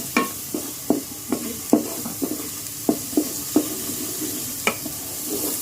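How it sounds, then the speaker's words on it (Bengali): Tikka spice paste for chicken tikka biryani stirred and fried dry in a pan, with repeated sharp scraping strokes of the spoon over a low, steady sizzle, close and moderately loud, no voices. "একটু ভালো করে মশলাটা নাড়াচাড়া করে মিশিয়ে নেব। মশলাটা একটু ভাজা ভাজা করব, পানি ছাড়াই।"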